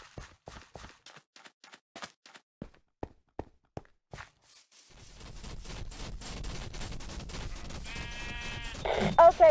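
Sheep bleat in a Minecraft theme-park adventure map, preceded by a series of sharp, evenly spaced clicks or steps; a steady background hum rises midway, and a loud bleat closes the clip.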